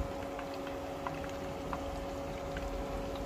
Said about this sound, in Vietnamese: cho cái phần đùi gà chay vô mình chiên liền